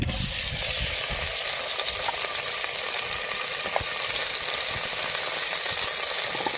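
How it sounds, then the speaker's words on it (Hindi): Chopped onions sizzling in hot ghee in a karahi pan, a steady dense crackle that fills the whole stretch without pause, close and even in level, with no talking over it. "तो घी गर्म हो चुका है, तो अब हम इसमें डाल देंगे प्याज।"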